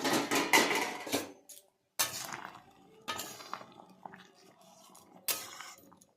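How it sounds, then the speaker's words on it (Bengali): A metal lid clanks off a pot of boiling taro, with a cluster of bright clinks and rattles up close, followed by sparser knocks of cookware and a final sharp clatter. "ঢাকনা খুলে দেখে নেব"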